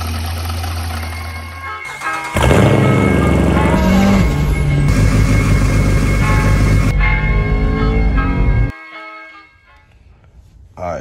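Engine of a 2011-or-later Dodge Durango with a failing water pump, a loud steady mechanical running noise with a rough knocking edge, close up, shifting in level partway through before dropping off near the end.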